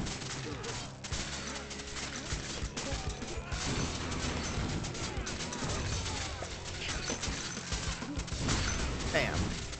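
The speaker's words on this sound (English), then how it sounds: "Big explosion." A dense burst of explosions and crashing impacts from Dungeon Warfare 2, a tower defense video game, loud and continuous with clattering hits and booms layered through the whole stretch.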